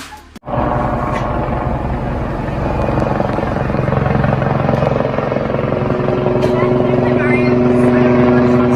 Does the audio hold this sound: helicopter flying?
yes